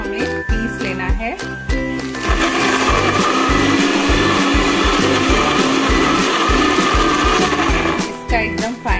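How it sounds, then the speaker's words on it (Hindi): A mixer grinder runs loudly and continuously, grinding spices into a paste with a whirring, rough grinding rattle, after a brief stretch of talking and clattering at the start. "ये सारी चीजें हमने मिक्सी जार में डाल दी है। बाद इसको हमें पीस लेना है।"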